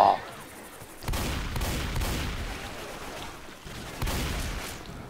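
Gunfire in the zombie shooter Left 4 Dead 2 erupts in bursts of rapid shots, with a brief lull between volleys and another loud burst near the end.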